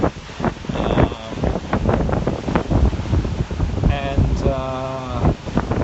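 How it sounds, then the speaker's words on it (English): Ocean waves crash on the shore during Hurricane Maria in the Caribbean, surging under heavy buffeting wind noise, with faint voice-like tones at moments. "that's the waves you're hearing in the background"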